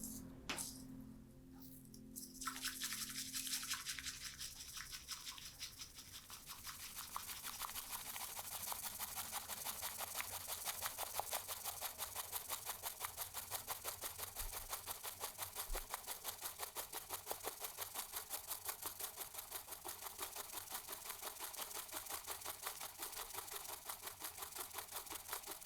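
A bamboo chasen whisks matcha rapidly into a thick foam. The sound is a fast, continuous, close rattling swish that stays steady and bright, after a few soft clinks at the start.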